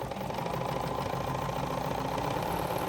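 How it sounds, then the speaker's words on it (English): Bernina sewing machine with a 1/4 inch foot stitching fabric triangles, a steady close mechanical whirr running without a break. "we're going to sew down the other short side"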